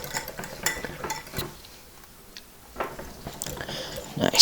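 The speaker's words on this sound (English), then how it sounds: "I'm going to whisk for about 20 seconds." Caesar salad dressing being whisked in a bowl, with quick clinking and scraping strokes in short bursts, a brief pause midway, and a voice speaking over parts of it.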